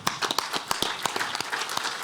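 Farmers at a grain industry congress give a short round of applause, with distinct individual claps standing out in a moderate, fairly close burst.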